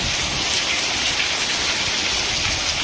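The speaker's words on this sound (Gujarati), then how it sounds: "અમારા ગામમાં ધોધમાર ભાઈ વરસાદ છે" Heavy monsoon rain pours down on a village near Palitana, Gujarat, in a dense, continuous roar with no pauses, loud and close.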